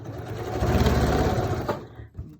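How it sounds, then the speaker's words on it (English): A sewing machine stitching down the side seam of a fabric face mask, a loud steady close motor whir that runs for about two seconds, then slows and stops with a small final mechanical knock. "we're just going to stitch down the side, making sure to keep those nice and pressed"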